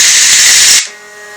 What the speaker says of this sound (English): then this is the sound of wind